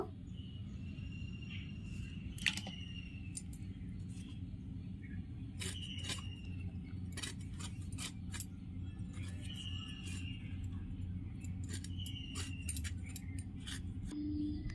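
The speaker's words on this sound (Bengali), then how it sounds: "এঁচড়টা আমি এরকম বড় বড় করে কেটে নেব" Raw jackfruit being chopped into large chunks on a board, a series of sharp irregular knife strikes and clinks over a steady low kitchen hum, with no one talking.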